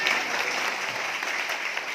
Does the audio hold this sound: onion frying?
no